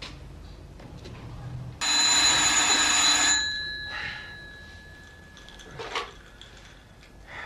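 Telephone ringing in a German crime radio drama, a bright, loud electric bell ring lasting about a second and a half, followed by fading tones and soft handling noises in a quiet room.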